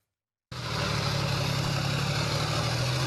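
A heavy armoured vehicle's engine drives along a slippery muddy road, a loud steady low rumble that starts abruptly after half a second of silence and holds constant, close with no speech.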